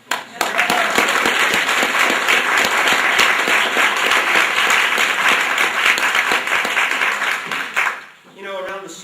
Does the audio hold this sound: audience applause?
yes